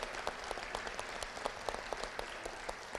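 An audience at a live Pancake Day event breaks into steady applause, a dense patter of many hands clapping at moderate distance, fairly quiet and continuous with no voices.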